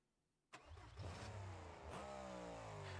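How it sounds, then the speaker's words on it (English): In the BeamNG.Drive video game, a monster-truck-style bus engine cranks to life after a quiet moment and then roars, revving up and down loudly and close by, with no talking. "Why does it sound like a monster truck?"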